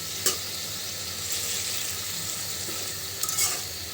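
Rohu fish pieces go into a boiling Bengali curry gravy, giving a steady frying sizzle with a couple of sharp clinks of a utensil against the pan as it is stirred, and no talking.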